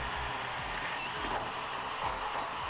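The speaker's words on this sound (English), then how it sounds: "we'll be able to take a pilot drill bit and begin to drill those out" A power drill whirring steadily as it bores through a 2014 Ford Edge steel frame, enlarging holes up to a 1/2 inch bit for a Curt trailer hitch, close and continuous, with no talking.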